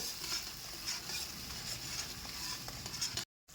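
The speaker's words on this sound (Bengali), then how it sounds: "এটা ভালো করে মশলাটা ভালো করে নাড়িয়ে নেব" Soaked spice paste for jackfruit Manchurian fries in oil while being stirred, a soft close sizzle with faint scraping strokes, steady and fairly quiet before cutting off abruptly near the end.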